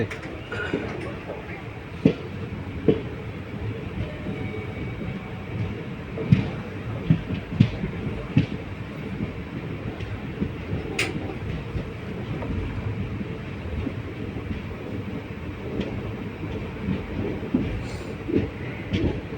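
Mayiladuthurai–Coimbatore superfast express train running, a steady loud rumble of rolling rail cars with scattered wheel clacks and knocks throughout, heard from on board or close by.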